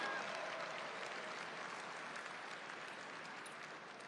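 Steady applause from an audience at a Republican dinner, a dense even wash of clapping that holds for about four seconds and eases slightly toward the end.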